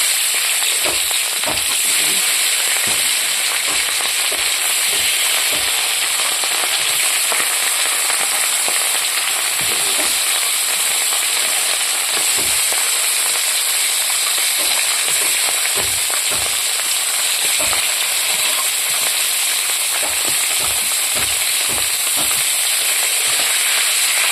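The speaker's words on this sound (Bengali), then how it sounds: "তেলটাও গরম হয়ে গিয়েছে, এখন আমি মাথাটা দিয়ে দেবো।" A katla fish head fries in hot oil in a wok, giving a loud, dense, constant sizzle with rapid spitting crackles and pops throughout, close up.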